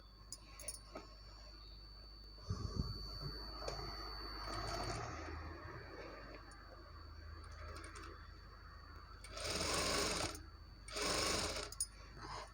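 A sewing machine stitches piping along the back neck of a blouse, with quiet handling and a few soft knocks first, then two loud whirring bursts of stitching near the end.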